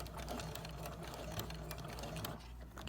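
A sewing machine stitches through thick quilted potholder fabric, giving a fast, steady mechanical whir with rapid needle ticks that runs continuously, close up, then eases slightly near the end.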